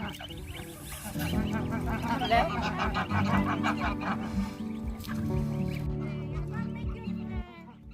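Ducks, chickens and turkeys on a Cyprus farm make nasal quacks and honking calls at close range, mixed with someone talking over them.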